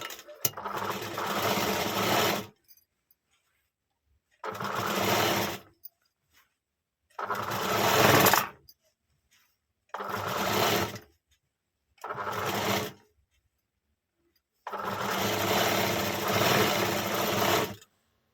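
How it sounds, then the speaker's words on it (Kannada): A sewing machine stitching a blouse front runs in several close, steady bursts of whirring and chattering, each a few seconds long, with silent pauses between them. "ಈ ರೀತಿ ಫೋಲ್ಡ್ ಮಾಡಿ ಈ ರೀತಿ ಸ್ಟಿಚ್ ಮಾಡಬೇಕು."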